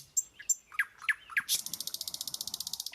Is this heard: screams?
no